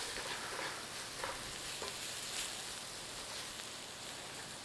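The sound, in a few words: flour cooking in pan to make a roux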